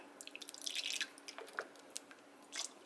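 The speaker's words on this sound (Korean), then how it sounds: "레몬즙을 한 큰술" Lemon juice drips and squishes into a dish in quiet, irregular little spatters and drops, close by and without talking.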